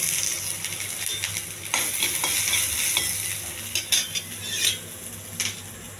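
Oil, ginger and spices fry in a pan with a continuous hiss, overlaid by irregular scraping and clinking of a utensil stirring against the metal, close and fairly loud without speech.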